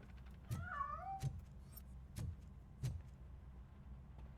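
A cat meows in a video game, two rising, wavering calls close together against a low background hum, with a few short knocks or thuds spaced through the clip.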